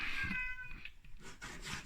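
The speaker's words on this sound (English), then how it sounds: "Got a cat trying to meow at me." A single cat meow, high and drawn out, sounds up close, followed by faint soft noises.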